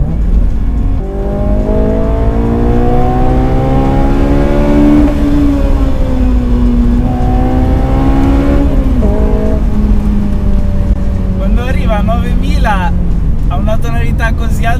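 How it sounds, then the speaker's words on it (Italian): A loud Honda S2000 engine revs hard to 9000 rpm through rising gears, its pitch climbing in long sweeps with brief shifts, a faint voice speaking near the end. "sembra che debba esplodere questo motore, invece sta semplicemente urlando e più sale di giri più lo vuoi tirare"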